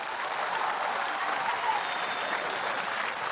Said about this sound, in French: Ça, on peut les applaudir très très fort.